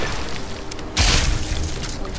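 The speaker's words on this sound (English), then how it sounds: "Somebody is firing a ghost rifle at me." Rifle fire from a ghost rifle in Fallout New Vegas lands as a single loud, booming shot about a second in, over a constant background hum of game ambience.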